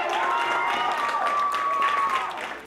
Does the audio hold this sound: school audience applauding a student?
yes